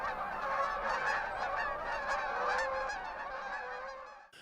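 A flock of Canada geese honks loudly and continuously, many overlapping nasal calls heard up close with no talking.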